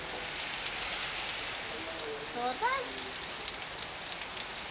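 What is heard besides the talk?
rain falling on a surface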